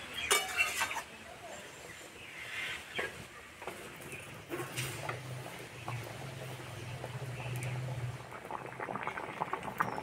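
An egg and masoor dal curry simmering in a pot, soft bubbling and gentle popping at low volume with occasional light clinks, close by and without talk.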